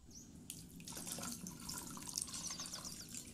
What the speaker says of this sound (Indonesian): Setelah ditiriskan, siram dengan air matang.